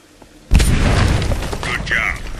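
A loud C4 charge detonates in the sci-fi game Aliens: Dark Descent, a sudden heavy boom followed by a sustained rumbling roar with debris and crackle, and a voice briefly heard over the tail.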